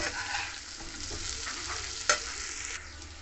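Pumpkin and potato being stirred in a frying pan with spices, a soft continuous sizzle with scraping of the spoon and one sharp clink against the pan.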